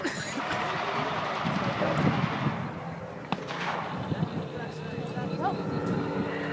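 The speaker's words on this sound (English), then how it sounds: "And here is our Spitfire pilot coming through again." A WWII Spitfire fighter passes over an air display battle re-enactment: a broad, steady engine roar at middle distance that swells and then eases away over several seconds.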